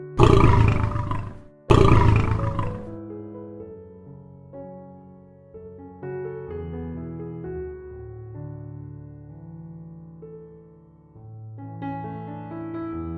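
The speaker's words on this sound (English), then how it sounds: "Lion." A lion roars twice in quick succession, loud, deep and close, before the sound gives way to a sustained musical backing that continues to the end.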